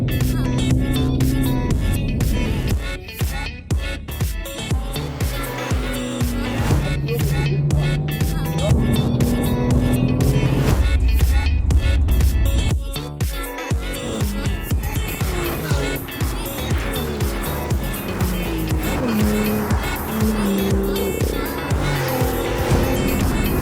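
A race car is driven hard on a circuit during German racing licence training, understeering and oversteering, its loud engine rising and falling through the gears with bursts of tire squeal, continuous and close throughout.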